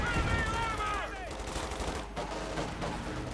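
Rapid gunfire crackles through a Company of Heroes 2 1v1 battle with Panther tanks and grenadiers, dense and continuous, mixed with a bed of game noise and what sounds like a voice at the start.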